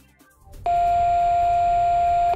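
After a short quiet moment, a single loud electronic beep from a Diagral alarm transmitter, answering a detector's test button, starts and holds at one steady pitch for nearly two seconds.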